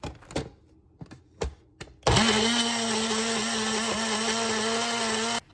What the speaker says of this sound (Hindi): अभी इन सबको ग्राइंड करेंगे, ठीक है, अदरक, लहसुन, मिर्ची और टमाटो को